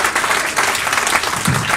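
A comedy club audience applauds a comedian at Zanie's Rosemont, a brisk, dense burst of clapping with a brief low voice near the end.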